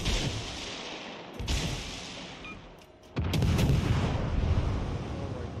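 Naval gunfire booms in the World of Warships Legends game, heavy battleship salvos landing as rumbling blasts with a brief lull before a loud, sustained barrage, no voices.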